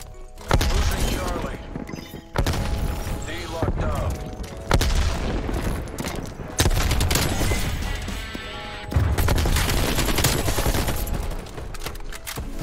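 AK-47 fire from Call of Duty: Black Ops Cold War comes in dense, loud automatic bursts broken by short pauses, with crashing impacts mixed through and some talk over it.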